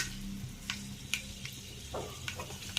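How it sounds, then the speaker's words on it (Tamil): Mustard seeds spluttering in hot oil with urad dal and chana dal, a soft continuous sizzle punctuated by sharp little pops and stirring scrapes, close by and without speech. "கடுகு நல்லா பொரிஞ்சு வர டைமில் கொஞ்சமாக உளுந்து சேர்த்துருக்கேன்."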